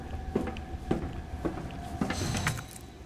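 A door opens in Resident Evil 2 with a series of evenly spaced mechanical clunks, followed by a brighter whirring, sliding rattle near the end, moderately loud, no voices.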